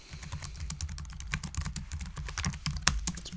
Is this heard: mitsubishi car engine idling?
no